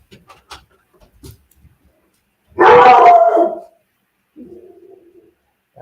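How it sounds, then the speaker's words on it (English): A single loud, close dog bark breaks an otherwise quiet room, with faint small noises before it and a softer vocal sound after. "That was my dog."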